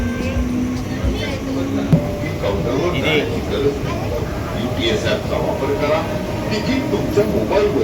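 A train pulls away from a railway station in dense fog with a steady rolling rumble and faint rail squeal, while a person speaks over it nearby.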